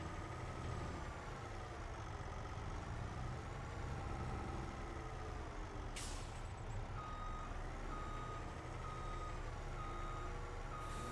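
Trucks in the Farming Simulator 25 video game reverse with steady repeating beeps over a continuous engine rumble, along with a sharp air-brake hiss partway through, loud and unbroken with no voices.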